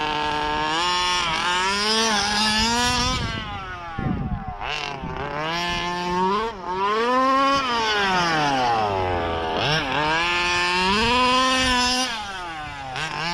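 A King Motors Baja RC car's gas engine with a clone Walbro 990 carburetor whines at roughly half throttle, its pitch rising and falling in repeated revving passes, loud and fairly close, with no talking.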